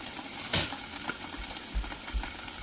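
A pork chop sears in a hot frying pan, a low steady sizzle with a sharp metallic clink early on and a few soft thumps of handling later.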